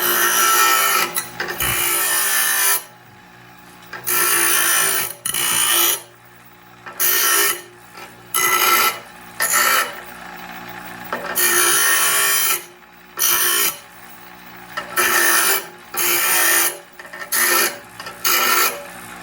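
A grinder fitted with a 60-grit abrasive cleans up the edge of a steel bar in a series of short rasping passes separated by brief pauses, loud and close with no talking.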